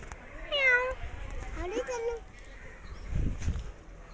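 A cat meows twice nearby, rising and falling, followed by a soft low thump; no words are spoken.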